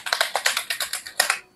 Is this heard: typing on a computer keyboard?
yes